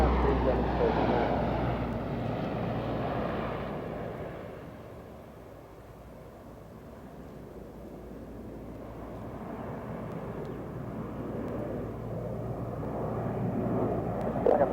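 Aircraft powered by Allison T56 turboprop engines displaying at an RAF Waddington airshow, a broad droning roar that fades and swells as it passes, with a commentator talking over it.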